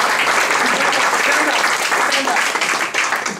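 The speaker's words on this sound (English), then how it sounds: "Big applause for him," Steady audience applause fills a Toastmasters club meeting room, dense and continuous clapping from many hands at close range, holding level throughout with a slight dip near the end.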